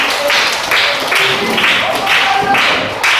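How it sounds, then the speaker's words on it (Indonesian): Audience applause for contestants at a village Quran recitation festival's Islamic quiz contest, a steady dense patter of many hands lasting throughout, fairly loud with a slight hum of voices underneath. "Tepuk tangan untuk peserta kita."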